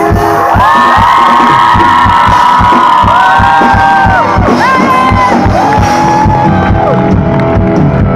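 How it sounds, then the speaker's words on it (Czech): At a concert in Šternberk, an audience cheers for a band member: loud, sustained shouts, whoops and yells rising and falling over a steady thumping drum beat, with no clear speech. "Ohromný potlesk pro"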